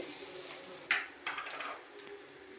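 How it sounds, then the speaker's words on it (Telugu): Onions frying in oil in a pan while being stirred for a chicken curry: a soft sizzle beneath a few distinct metallic scrapes and clinks of the spoon against the pan. "ఇట్లా ఎర్రగడ్డ వేసుకున్నాక మనం కలుపుకుంటూ ఉండాలండి"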